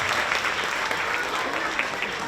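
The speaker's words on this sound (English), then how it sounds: "And one more round of applause for Mrs. Barragon's class, everybody." Audience at a second-grade school winter concert giving a round of applause, dense continuous clapping from a crowd, fairly loud and sustained throughout.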